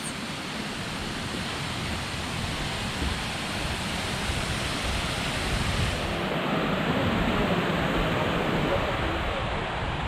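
Amicalola Falls, Georgia's tallest waterfall, roars as a steady, dense wash of falling water filling the whole stretch, with faint wind buffeting the microphone near the end.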